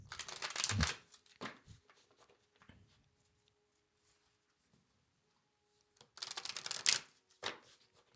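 Tarot cards are shuffled up close in two bursts of rapid riffling and flicking, one at the start and one near the end, with a few soft taps and a long quiet stretch between.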